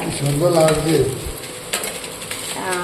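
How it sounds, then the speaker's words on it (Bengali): Potatoes fry in white oil in a home kitchen, giving a close, crackling sizzle with light stirring scrapes, while a voice is briefly heard near the start. "সাদা তেল চলো ভাজাটা হোক দেখো আলুটা কত পার্সেন্ট ভাজা হয়ে গেছে"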